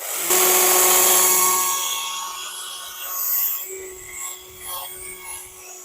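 An electric chainsaw carves a wood spirit face, its thin high whine strongest at the start, then easing and rising again in shorter, fainter cuts.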